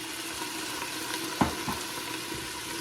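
Red wine hits a hot pan of vegetables being deglazed for braised lamb shank, giving a steady, close sizzle with a couple of sharp clicks from a utensil scraping the bottom.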